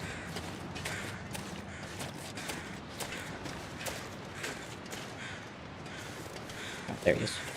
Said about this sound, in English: It's like I see the crows.